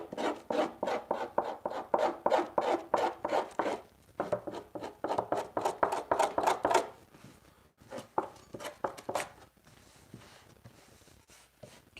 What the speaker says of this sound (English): And then I scrape it. Scrape the mess out of it